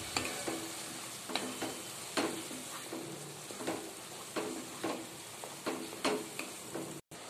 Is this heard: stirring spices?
yes